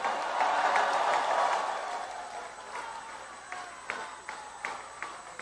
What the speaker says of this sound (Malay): Tepukan bergemuruh untuk Datuk Seri Bong Mokhtar Radin.